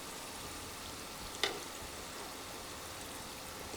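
Tater tots frying in duck fat give a steady, dense sizzle throughout, with one brief clack near the middle as they are flipped.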